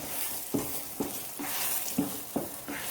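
Lentil filling (biuli or kolai dal) for Bengali kochuri is stirred in a hot pan: rhythmic scraping strokes land about every half second over a soft, continuous sizzle, close and steady.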